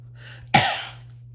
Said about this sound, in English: Sorry, I had to clear my throat first.